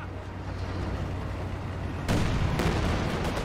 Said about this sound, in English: Throws out a frag grenade